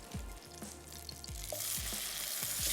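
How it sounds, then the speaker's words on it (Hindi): Kebabs frying in a pan, a steady sizzle with repeated soft scraping strokes of stirring that grows louder and hissier near the end. "बाकी कबाब रख लेते हैं फ्राई होने के लिए"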